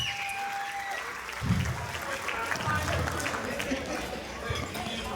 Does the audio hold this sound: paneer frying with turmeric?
no